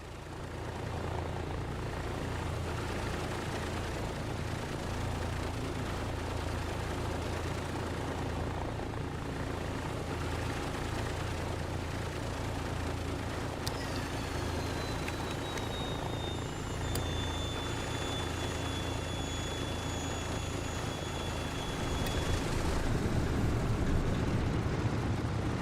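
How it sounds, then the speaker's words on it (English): Douglas DC-3 left radial engine in MSFS 2024 starting and settling into a steady warm-up drone, a continuous low rumble with a brief whine rising partway through and the sound getting louder near the end. "And let's energize the left engine."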